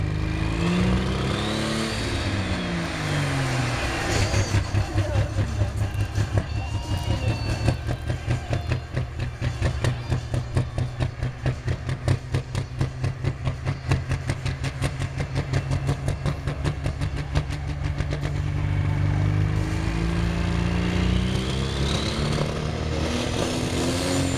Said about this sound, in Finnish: siinä testaillaan vähän sitten vielä näitä moottoreita, että miten ne toimii